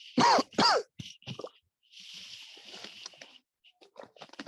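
A man coughs and clears his throat, two loud harsh coughs up close followed by rougher, quieter throat clearing and raspy breaths.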